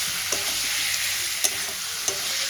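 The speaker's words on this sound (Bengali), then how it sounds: "আমি আলুটা কিন্তু ভাজিয়ে নিই" Steamed potatoes frying with spices in a pan, a soft continuous sizzle broken by a few light scrapes of stirring.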